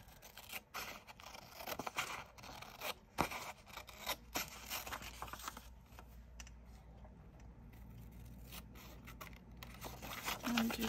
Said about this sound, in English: I'm just gonna cut that out.